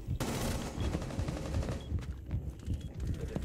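Video game gunfire rattles in dense automatic bursts, close and loud, nearly continuous over a low rumble with a sharp onset after the first moment.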